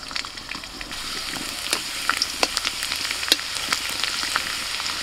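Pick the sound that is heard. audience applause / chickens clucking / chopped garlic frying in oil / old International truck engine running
chopped garlic frying in oil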